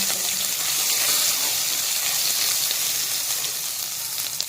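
Ginger garlic paste and garam masala fry in a pan with a loud, steady, close sizzle that holds at an even hiss before cutting off abruptly at the end.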